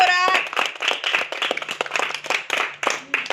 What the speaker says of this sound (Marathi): बरोबर असेल तर टाळ्या वाजवायच्या